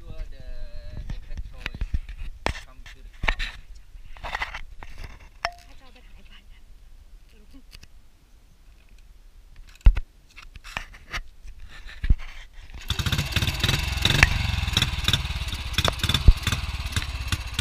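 A 1954 Royal Enfield 250cc rigid-frame motorcycle is kicked over with scattered clanks and taps, then its engine catches and runs steadily and fairly loud for the last few seconds, with some talk near the start.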